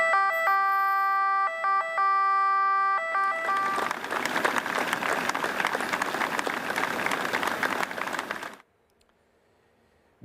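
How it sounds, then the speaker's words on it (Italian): A fire engine pump truck sounds its siren in a farewell salute, steady loud tones for a few seconds, then a crowd bursts into prolonged applause before falling quiet. "hanno voluto salutare Pietro per l'ultima volta con le sirene dell'autopompa"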